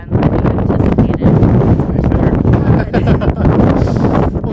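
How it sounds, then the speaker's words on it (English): Strong wind gusts buffet the microphone outdoors in a continuous loud, low rumble, with a voice speaking briefly underneath. "It's a little windy out here"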